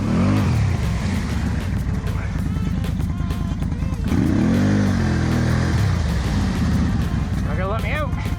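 A 2021 Can-Am Renegade 1000 XMR ATV fitted with an MBRP exhaust idles and revs nearby, its engine note rising and falling in a few surges, with a voice talking over it.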